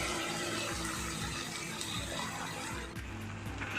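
Water pours into a pan of chicken curry with a steady close gush and bubbling splash, no voices.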